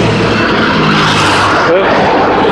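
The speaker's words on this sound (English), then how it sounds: "I see the trucks coming down the road with a propane." Cars, motorcycles, vans and propane trucks pass along a road in the Philippines, a steady loud rush of engines and tires close by, with a voice talking over the traffic.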